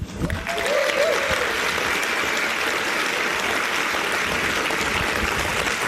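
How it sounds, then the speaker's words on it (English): Sustained applause from a sizable audience, dense and even, beginning abruptly and continuing steadily throughout. "Keep a round of applause going for Andres."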